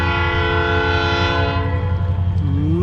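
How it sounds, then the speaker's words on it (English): A loud train thunders past close by, its deep horn blaring steadily over the pounding rhythm of the wheels. "man, it's a loud train."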